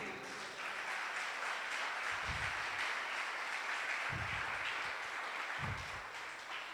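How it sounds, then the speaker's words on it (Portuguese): Church congregation clapping together through a worship service, a steady dense patter of many hands filling the room, with a few low thumps breaking through at intervals. "Vamos aplaudi-lo."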